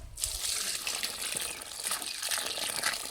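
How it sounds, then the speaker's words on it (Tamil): A continuous rushing stream of water pours steadily into a pot while preparing a herbal horse remedy, close and moderately loud, with a splashy gush at the start. "தண்ணி ஊற்று"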